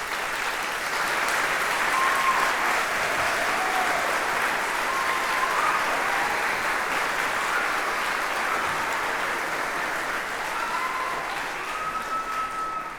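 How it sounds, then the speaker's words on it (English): A church congregation applauds steadily for a departing member at a Sunday service, a dense sustained wash of clapping with a few faint cheers or whoops on top, lasting throughout and easing slightly toward the end. "let's give you a round of applause"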